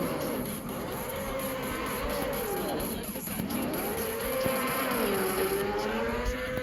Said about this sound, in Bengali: বাইক করে যাই।